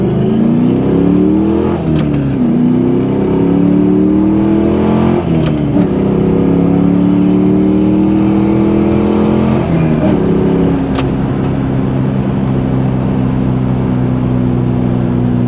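A 2000 Pontiac Trans Am WS6 with traction control switched off revs hard and accelerates, its loud, close engine note climbing through repeated gear pulls and settling into a steady high drone.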